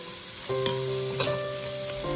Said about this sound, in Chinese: 将小河虾炒至入味